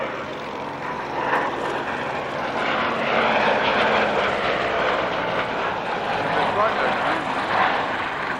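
A vintage propeller aircraft engine at an airshow roars steadily at a distance, swelling slightly midway, with voices faintly mixed in.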